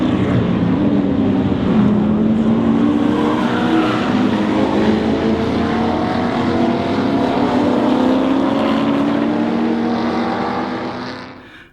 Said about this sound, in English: Russell Wright and the number 69 Mustang putting the pressure on from the start, all over the back of the number 11 Firebird of John English.